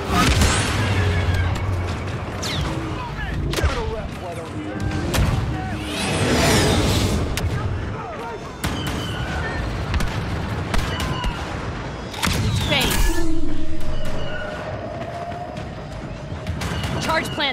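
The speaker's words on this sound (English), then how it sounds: "Artillery, fire away." Artillery barrages and booming impacts in Star Wars Battlefront 2 multiplayer on the Crait map, heavy repeated blasts mixed with other weapon fire under ongoing game voice lines.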